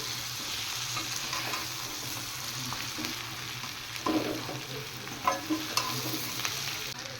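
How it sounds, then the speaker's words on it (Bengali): Fried chicken pakoras being stirred through a sizzling pan for chilli chicken, a steady frying hiss with a few louder spatula scrapes and clacks near the end, close and without talk. "এবার দিয়ে দিচ্ছি আমি ভেজে রাখা চিকেন পকোড়াগুলো। এবার এটা ভালো করে একটু মিশিয়ে নিই।"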